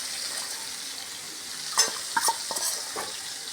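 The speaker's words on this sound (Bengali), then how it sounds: "ভালো করে আমি মশলাটা কষিয়ে নেব।" Chili powder, coriander and turmeric fry in a pan with a steady, even sizzle throughout, broken near the end by a few stirring scrapes and clinks, close by and with no speech.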